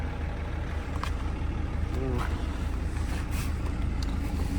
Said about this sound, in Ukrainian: машина калатає